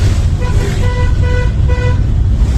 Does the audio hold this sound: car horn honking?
yes